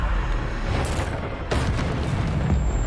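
Spell explosions in the wizarding action game Hogwarts Legacy, a loud, dense blast followed by a second sharp burst and continuous booming rumble, with a thin high magical tone ringing near the end.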